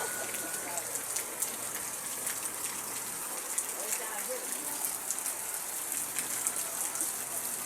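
Steady heavy rain from the tail of Typhoon Enteng pours down in a continuous hiss, drops drumming on a surface with a faint gush of running water underneath.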